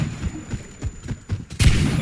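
A grenade explodes in the shooter game Warface: one loud, heavy blast near the end, preceded by a few soft thumps and faint background noise.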